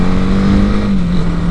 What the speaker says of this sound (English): compared to the BS4 version, the engine is so much smoother,